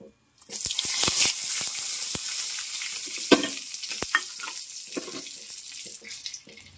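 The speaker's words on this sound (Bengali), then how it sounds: "2টো শুকনো লঙ্কা নিয়েছি, তেজপাতা, লবঙ্গ, এলাচগুলোকে আমি ফাটিয়ে দেবো।" Dried red chillies, bay leaf, cloves, cardamom and cinnamon sizzle in hot oil as a bright, hissing tempering. Sharp crackles and pops stand out up close, and the hiss slowly settles. No voices.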